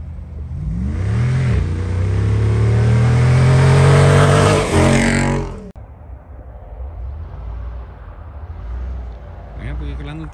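Jeep Wrangler Rubicon 392 V8 engine revving hard on a dry wash in Arizona, a loud rising roar that climbs for several seconds, then cuts to a lower idle rumble, with people talking over it.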